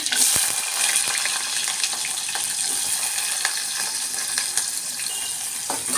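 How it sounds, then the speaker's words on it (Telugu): Onion pieces fry toward golden in hot oil for a crab curry: a steady, close hiss with occasional clicks of stirring, continuous and fairly loud. "ఉల్లిపాయ ముక్కలు కొంచెం గోల్డ్ కలర్ వచ్చేదాకా వేసుకోవాలి"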